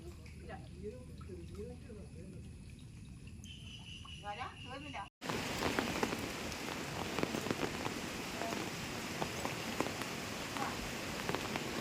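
Heavy monsoon rain in the Payyannur area pours down as a dense, continuous hiss of drops after a short stretch of quieter outdoor sound.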